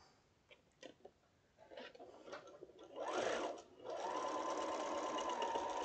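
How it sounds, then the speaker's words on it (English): A sewing machine stitches a quilt seam with a scant quarter-inch allowance, starting in short bursts and then running steadily and close with a smooth, even hum. "So now I'm going to go and sew this seam."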